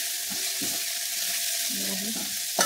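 Onions sizzling in hot oil in a pan while being fried until reddish for a potato curry, a steady bright hiss with a few soft scraping stirs and a sharp clink near the end.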